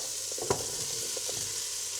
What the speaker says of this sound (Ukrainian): Так, тепер давайте додамо нашу картоплю до нашої зажарки.